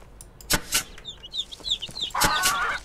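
A chicken in the Ranch Simulator game gives a run of quick, high clucks and squawks, close and clear over a faint background hum.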